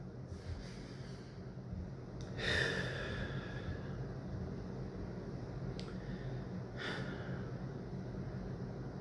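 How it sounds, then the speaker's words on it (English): A slow, deep breath drawn in and let out in a quiet room, with a softer second breath a few seconds later over a low background hum. "take a deep breath."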